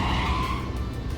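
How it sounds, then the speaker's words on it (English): A car drifts in the video game Yakuza 5, its tires screeching in a loud, steady squeal over engine roar, close and brief. "Hier Drift."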